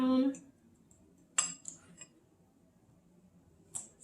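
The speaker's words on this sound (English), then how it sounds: "stir it around" A utensil stirs keto food in a pan, giving a few sharp scraping clinks spaced out over near-silence, with a brief voice at the start.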